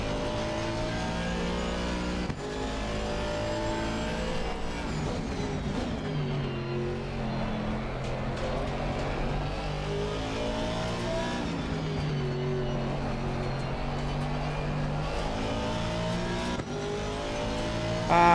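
Aston Martin engine in the arcade racing game Cruis'n USA, played on a home-built Volvo simulator rig, drones steadily and loudly throughout, with rising and falling revs as gears shift.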